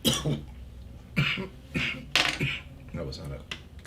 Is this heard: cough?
yes